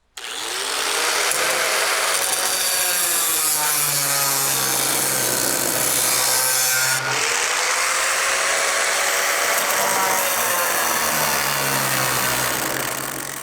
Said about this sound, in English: So you're going to want to grind these off a little bit and give yourself a better contact for the weld